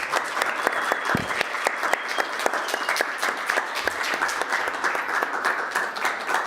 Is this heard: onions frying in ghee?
no